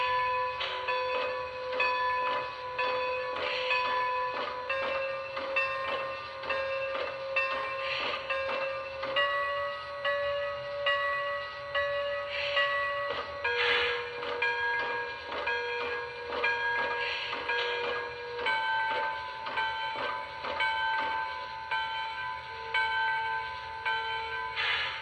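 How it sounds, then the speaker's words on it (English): A Lionel Strasburg 90 toy train locomotive plays a steady series of metallic bell tones, evenly repeated with sustained overtones, loud and close, with no talking. "now let's check out the bell, and there are 5 different bell tones"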